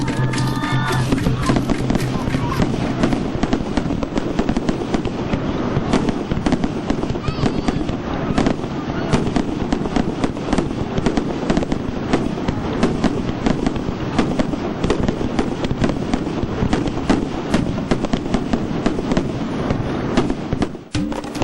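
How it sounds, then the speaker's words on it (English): Fireworks at a festival in China crackle and bang nonstop in a dense, loud barrage, with a faint crowd murmur underneath. "culminates in an elaborate fireworks display"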